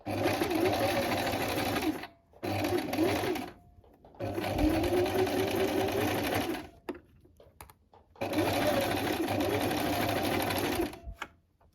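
Sewing machine stitching a seam on a Prince of Wales check dress, a steady close whirring rattle in several long runs broken by brief stops, no talk.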